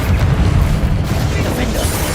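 Explosive blast from the Confringo fire spell in Hogwarts Legacy, a loud booming burst with rumbling low end that fills the short clip, layered with other combat noise.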